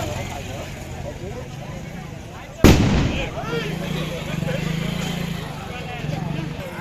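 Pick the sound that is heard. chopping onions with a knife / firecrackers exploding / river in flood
firecrackers exploding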